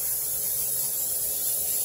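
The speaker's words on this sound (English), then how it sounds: "I have here a 9 by 13 inch dish that I am going to spray with Pam." Pam cooking spray hissing out of the can onto a 9 by 13 inch baking dish in a home kitchen, one steady, continuous spray heard up close with no pauses.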